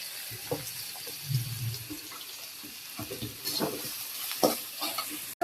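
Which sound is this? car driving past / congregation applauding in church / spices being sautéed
spices being sautéed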